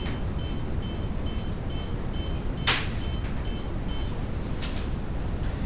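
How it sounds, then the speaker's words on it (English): A repeating main engine alarm beeps in a steady electronic rhythm, faint over a constant low machinery hum, with one brief click partway through. "And then we receive the main engine alarms."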